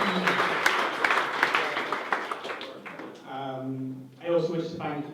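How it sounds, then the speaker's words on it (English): Wedding guests applauding after a thank-you speech, a burst of many hands clapping at moderate volume that fades out as a voice begins to talk. "I'm going to make you all clap for"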